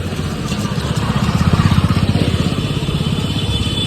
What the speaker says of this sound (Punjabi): ਲੇਡੀਜ਼ ਮੋਟਰਸਾਈਕਲ ਚਲਾਉਂਦੇ ਹੋਏ